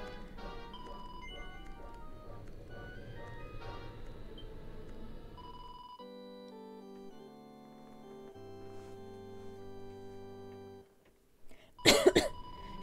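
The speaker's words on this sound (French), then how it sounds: "Désolée si je tousse, j'arrête pas depuis ce matin." A woman coughs once, a short harsh burst near the end, over looping fantasy video game music from Dragon Quest XI that plays steadily underneath.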